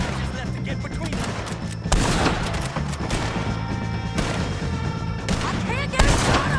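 Gunfire crackles in a Red Dead Redemption 2 shootout against O'Driscolls at Beaver Hollow, with bursts of rapid shots and louder cracks repeating over a busy game soundscape and voices.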